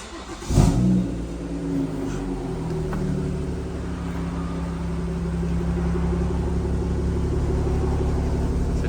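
A cold, stage 2 BMW M240i with an M Performance exhaust back box fires up with a sharp, loud burst, then settles into a deep, steady engine rumble that swells slightly toward the end, heard close and alone.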